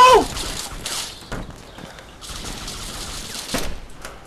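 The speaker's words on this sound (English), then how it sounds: "we're getting shot from everywhere" Bursts of gunfire crack out in the DayZ survival game, a few rapid volleys and sharp single shots spread across a few seconds, with quieter gaps and faint background noise between them.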